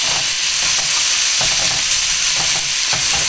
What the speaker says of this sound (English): you add the vegetables and stir